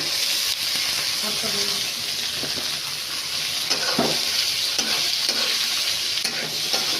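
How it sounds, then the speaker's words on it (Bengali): Potatoes, tomatoes and peas fry and sizzle in a pan, with a steady hiss and intermittent scraping stirs from a utensil, close and fairly loud, with no talk. "একটু ভাজা ভাজা করে নেই"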